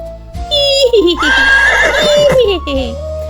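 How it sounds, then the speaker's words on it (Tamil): A horse on a farm gives a long, wavering neigh that rises and falls, loud and near, over a steady background tone. "இது ஒரு குதிரை. காற்றை போல வேகமா ஓடும். அது எப்படி கத்துது சொல்லுங்க பார்க்கலாம்."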